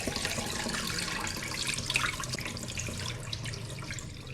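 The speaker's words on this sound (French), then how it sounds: "je vais vider encore l'eau qui est dessus" Washing water poured off soaked grains into a sink, a steady splashing, running stream close by that continues without pause, with no voices.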